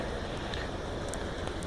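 A shower at a roadside gas station runs with a steady, hissing spray of water. It is continuous and even, with no voices.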